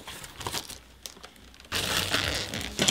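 Packaging around a dollar-store sign is pulled open up close, with crinkling and crackling plastic in short bursts and then a louder, steady rustle.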